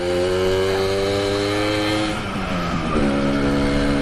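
An old two-stroke motorbike engine, running a little rich on 50:1 mix, buzzes steadily up close, its pitch dropping briefly near the middle before settling into a lower, rougher idle.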